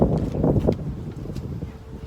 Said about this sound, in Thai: โทษทีเด้อลมแรงเพื่อน ๆวันนี้ร้อนแต่ว่ารู้สึกว่าลมจะแรงจ้ะ